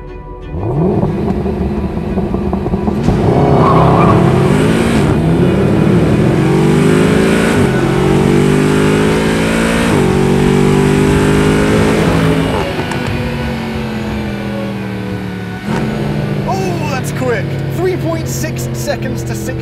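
Mercedes-Benz SLS AMG with a 6.2-litre naturally aspirated V8 revving hard and loud, climbing through several gear pulls with rising pitch, then settling to a lower drone.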